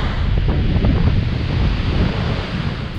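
Continuous rumbling surf breaking on a shingle beach at Shoreham, with heavy wind buffeting the microphone and spray in the air, a dense low roar of breaking waves throughout.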